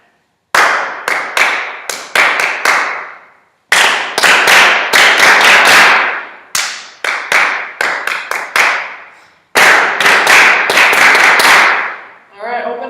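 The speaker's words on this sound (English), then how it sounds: "Now, I'm going to clap a pattern, and I want you to repeat after me as well," Hands clap a rhythmic pattern in four loud phrases of sharp, quick claps separated by short pauses, close and alone.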